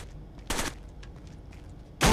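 Gunfire in the video game Rainbow Six Vegas 2 during a Terrorist Hunt on the Trainyard map: two short, loud bursts of shots separated by a quieter stretch, with no talking.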